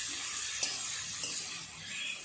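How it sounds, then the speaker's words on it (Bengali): Grated onion stirred and fried in a pan for a fish kalia, giving a steady broadband sizzle with a couple of sharp scraping clicks from the stirring, close and fairly quiet. "পেঁয়াজটা একটু নেড়ে চেড়ে ভেজে নেব"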